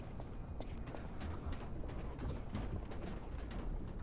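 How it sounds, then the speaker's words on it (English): Pinocchio's gears whir during his fatal attack in the video game Lies of P, a steady mechanical clicking and grinding texture with a dense rattle running the whole time. "you can hear Pinocchio's gears whir when he does the fatal attack animation"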